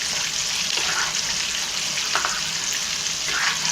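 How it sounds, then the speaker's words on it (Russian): Feather-shaped pasta (penne) being stirred in a pot of boiling water on the stove, a steady bubbling hiss with a few soft scraping stirs, close and continuous, with no talk. "Макароны помешиваю, чтобы на дно не садились."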